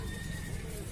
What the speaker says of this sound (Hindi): ये आपके अपने घोड़ी की ही बछेरी है?